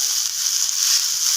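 A bhagar (barnyard millet) uttapam sizzles loudly in a hot pan as it is flipped, a close, steady, hissing crackle that carries on without a break and with no talking.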